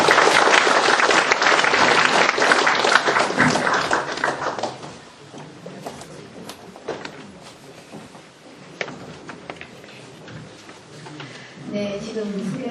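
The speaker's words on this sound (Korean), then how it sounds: "지금 큰 박수 부탁드립니다." An audience claps warmly to welcome a professor lecturing at a humanities forum, loud dense applause for about five seconds that thins into scattered claps and room noise.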